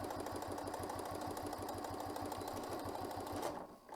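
A sewing machine back stitches along a zipper pouch, a fast steady mechanical chatter of needle strokes that runs evenly, close and loud, then stops abruptly near the end.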